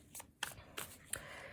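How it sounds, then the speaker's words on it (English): A tarot card deck is shuffled in soft, quick riffling bursts, about four brisk flutters close to the microphone, quiet and with no talk. "I could literally shuffle these cards for hours."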